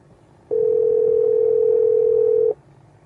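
Phone call tone played through a Nulaxy KM22 Bluetooth FM transmitter: a single steady, loud electronic tone held for about two seconds, then cutting off, with faint background hiss before and after.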